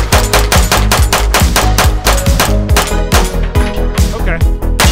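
A pistol fires rapid, evenly spaced rounds loaded from several different magazines, each shot sharp and loud, in a steady string of about twenty-five over five seconds.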